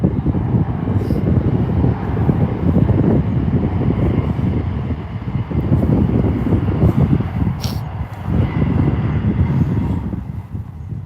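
An Emirates Airbus A380 at Birmingham Airport gives a loud, deep, continuous rumble of jet engines that swells and ebbs slightly, mixed with heavy wind noise on the microphone.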